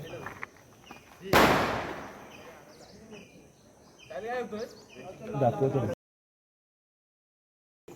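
A Diwali firecracker bomb goes off once with a sharp, loud bang, followed by excited voices and laughter nearby.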